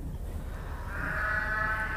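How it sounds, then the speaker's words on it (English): A sheep in the Walkabout Mini Golf VR game lets out a drawn-out bleat that swells midway, heard fairly close over a low background hum with no talking. "That's actually a sheep behind you."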